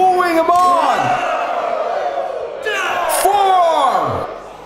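A wrestling crowd at an Unlimited Wrestling show woos in two long, swelling rounds, rising voices sliding down together, with cheers and yells underneath, loud and close throughout.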